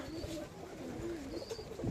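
A young male pigeon on a rooftop coos softly and repeatedly in low, rolling murmurs, close by, with faint background noise.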